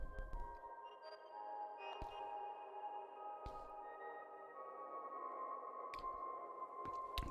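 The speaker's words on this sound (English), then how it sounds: "That is a lot of reverb." Quiet, sustained ambient electronic classical music with piano and long washes of heavy reverb, notes blurring into a hazy reverberant tail, with a few soft clicks scattered throughout.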